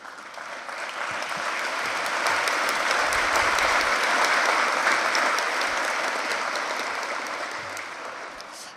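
A large audience applauds in the UN General Assembly hall, a sustained wash of clapping that swells for several seconds and then slowly tapers.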